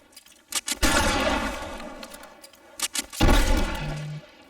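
Gunfire in the video game L.A. Noire, two clusters of loud rapid shots with heavy low booms and crashing, shattering debris, close and intense with brief gaps between volleys.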